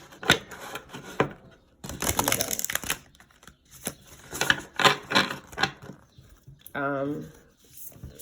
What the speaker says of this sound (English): We're shuffling from the Moonology deck by Yasmin Boulain, artwork by